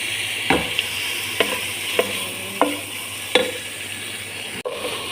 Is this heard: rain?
no